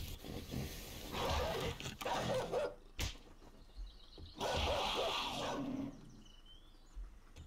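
A hostile dog in the survival game 7 Days to Die growls and snarls in two long, rough bursts with a sharp sound between them, fairly close and loud.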